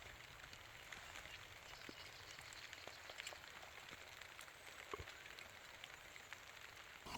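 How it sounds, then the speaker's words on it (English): Rain patters steadily on a tent during a canoe and kayak trip on the Clarence and Nymboida rivers, a dense, even hiss of drops with scattered sharper taps close by. "I'm reluctant to get out of the tent because it's raining."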